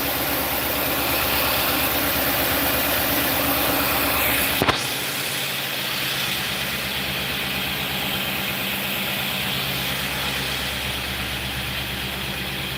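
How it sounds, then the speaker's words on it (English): A Nissan NV3500 van's engine idles steadily after sitting unstarted for two years, a continuous close rumble with one brief sharp knock partway through and no speech. "Yeah, it idled up on its own."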